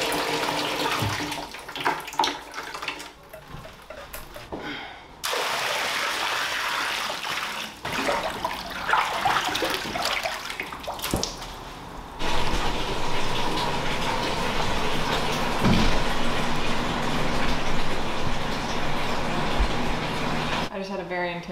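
Water gushes steadily from a tap into a home birth tub, a continuous rushing hiss with interruptions and knocks, while people talk quietly nearby.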